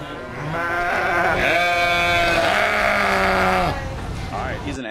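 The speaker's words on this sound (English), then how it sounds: "he's an angry sounding goat" An angry-sounding goat gives a long, loud, wavering bleat lasting several seconds, with a few shorter bleats around it and no talking.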